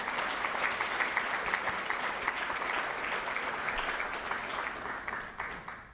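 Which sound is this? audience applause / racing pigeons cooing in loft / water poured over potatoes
audience applause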